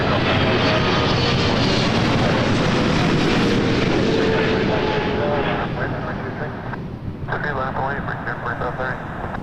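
A Boeing 777 airliner takes off at Toronto Pearson Airport, a loud, broad engine roar that holds steady and then slowly eases as it climbs away, with radio chatter and a voice over it.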